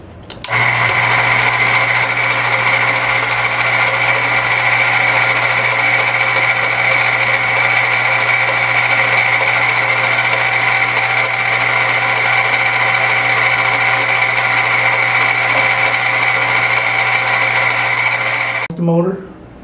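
Tomato machine motor running steadily and loudly with a constant hum and mechanical whir for nearly the whole stretch, then switching off near the end.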